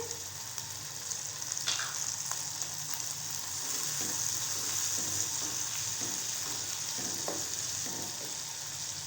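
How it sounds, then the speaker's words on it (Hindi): Chickpeas and tomatoes fry in a pan, a steady broadband sizzle running throughout with faint scraping stirs and light clinks scattered over it, no talking. "चने को भूनते हुए 2 मिनट हो चुके हैं। अब हम इसमें डालेंगे टमाटर।"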